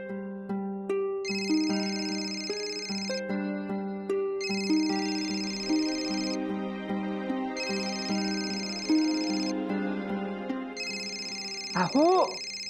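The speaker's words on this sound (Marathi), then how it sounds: "तुमचा फोन वाजतोय" A mobile phone ringtone plays in a Marathi TV serial scene, a melodic tone pattern repeating in regular bursts at moderate loudness, with a brief voice at the very end.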